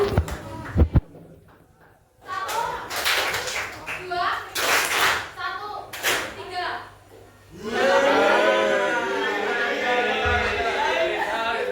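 Students in a classroom play a counting clapping game, with short bursts of sharp claps between stretches of a teacher's voice and chatter, ending in a longer spell of overlapping voices.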